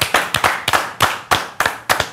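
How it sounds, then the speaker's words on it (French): A close group claps in a brisk, even rhythm on a French sports broadcast set, eight crisp hand claps in quick succession. "On applaudit."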